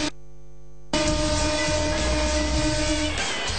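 Commuter train in Mumbai, where some trains run only for women: a steady hum first, then a loud, dense rush of rolling rail noise and hiss that continues throughout.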